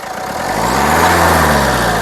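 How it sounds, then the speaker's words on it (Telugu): A 2015 Maruti Suzuki S-Cross 1.6 engine hums loudly up close, its pitch rising briefly in a short rev before settling back down. "ఇంజన్ యొక్క నాయిస్ చాలా పర్ఫెక్ట్గా అయితే ఉంది సైలెంట్గా అయితే ఉంది రేజీ ఒకసారి"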